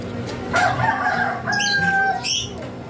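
A breeder rooster crows near a nest in a home aviary, a short call rising over a busy, cluttered background of other birds and faint clucking.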